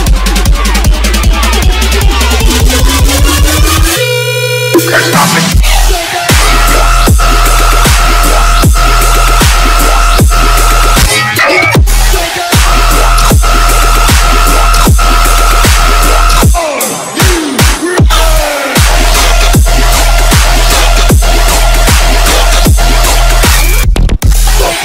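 Dubstep and riddim rave music plays loud and dense, with a pounding regular beat, heavy sustained bass and wobbling synth layers that drop out briefly in short breaks before slamming back in, with no voices over it.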